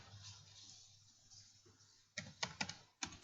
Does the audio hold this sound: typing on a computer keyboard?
yes